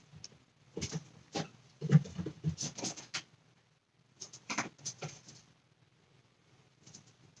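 Soft scratching, tapping and pattering in bursts as cats move around on a shelf nearby, with short pauses between flurries.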